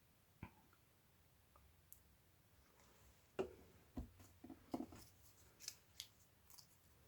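Scissors snip through paper during a craft project, a scattered series of sharp, close snips and clicks with pauses between them, quiet overall with no talking.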